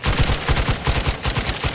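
Rapid automatic gunfire from a gun in The Outer Worlds 2 rattles out in a loud, steady burst of closely spaced shots, with no voices over it.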